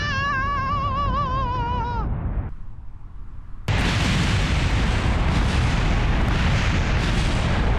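A Gundam mech in Kerbal Space Program crashes and is destroyed: a wavering synth tone cuts out, a brief near-silence follows, then a loud sustained roaring explosion rumble fills the rest.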